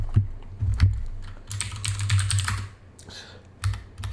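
Typing on a split, fully customizable computer keyboard with an LCD screen, close-up clacking keystrokes in uneven bursts and short pauses, no talking.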